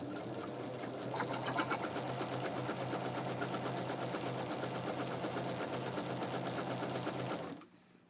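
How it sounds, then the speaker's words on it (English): A sewing machine runs steadily close by, stitching a quarter-inch seam on fabric for a quilt block, its rapid even whir continuing for several seconds before stopping abruptly. "take it to my machine and do a 1/4 inch seam"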